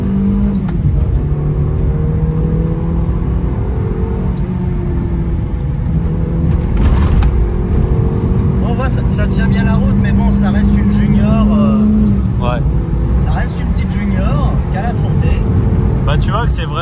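A Peugeot 205 XS engine with a short-ratio gearbox drones loudly up through the revs, dropping and climbing again as gears change, with occasional talk over the cabin noise.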